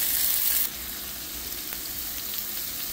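Hamburger patties fry in a pan with a steady, close sizzle that sounds louder for the first half second and then settles into an even crackle.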